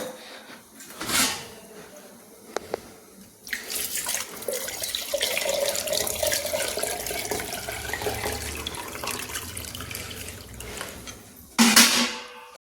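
Water runs from a tap in a home while the water is being changed, a steady rushing flow lasting several seconds, framed by clunks of handling before and a loud splash near the end.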